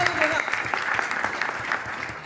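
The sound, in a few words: audience applauding at a business seminar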